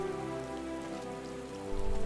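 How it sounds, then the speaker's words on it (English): Rain pours steadily in the Final Fantasy XIV Online game world, a dense continuous hiss of falling drops over a low ambient hum, growing a little louder near the end, with no talk. "Oh, it's raining!"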